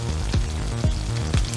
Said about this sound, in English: hear that sizzle. Turn the speakers up, get that sizzle.